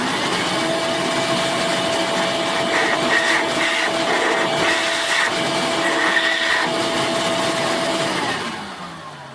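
A restored Ridgid wet/dry shop vac runs steadily and loud for about eight seconds with a constant whining motor drone, then begins to wind down near the end.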